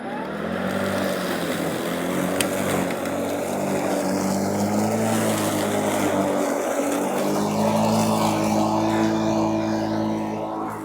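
An electric lawnmower cutting grass runs as a loud, steady motor drone with a constant tonal hum close by, holding level for about eleven seconds with no talking.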